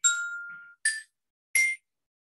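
A sonified spectrum of a typical rocky exoplanet plays as three short, bright electronic tones, chime-like and separate. The first holds longest, then two brief blips follow with gaps of silence between them.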